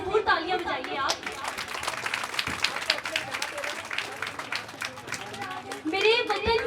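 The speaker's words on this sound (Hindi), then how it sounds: "भरपूर तालियां बजाइए आप।" An audience claps for children at a Montessori school's annual prize distribution ceremony, a steady patter of applause running for several seconds, with a voice speaking over it at the start and end.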